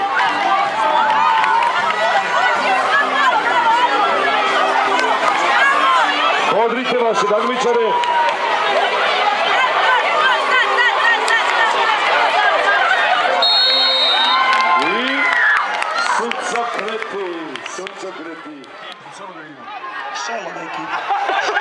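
A noisy crowd of preschool children cheers and shouts continuously at a sports day, with excited whoops and an adult voice calling out over the din.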